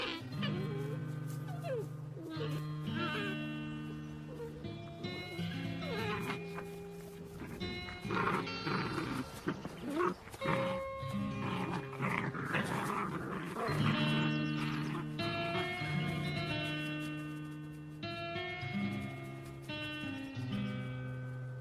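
Yellowstone's Druid wolf pack with many pups gives off a continuous chorus of whining, yelping and howl-like cries, layered and overlapping, moderately close, with no speech.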